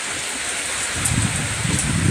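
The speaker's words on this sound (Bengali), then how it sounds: "আজকে যেহেতু তোমার বৃষ্টি পড়ছে" Steady rain falls outdoors around someone under a small umbrella, a continuous broadband wash with patters on the umbrella growing denser and louder in the second half, with no talk.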